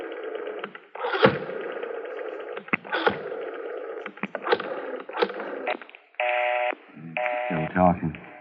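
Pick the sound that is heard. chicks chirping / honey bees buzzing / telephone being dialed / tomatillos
telephone being dialed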